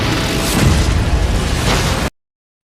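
A fiery blast in an animated battle, as one fighter unleashes a fire explosion attack: a loud, sustained roaring burst lasting about two seconds, up close and alone, then cutting off abruptly to silence.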